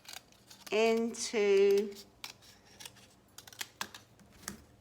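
Scissors snip through folded paper to cut out pattern pieces for a symmetrical robot craft. A short vocal sound comes first, then a quick series of small, close, crisp cutting clicks.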